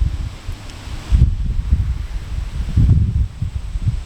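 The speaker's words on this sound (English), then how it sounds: "A little bit windy, but not too bad." Steady wind buffeting a microphone, low rumbling gusts that swell and ease over several seconds, with no voices.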